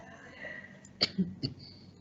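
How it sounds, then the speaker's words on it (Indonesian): A few quick, soft coughs, two or three close together, faint and close-miked. "maaf saya batuk dikit"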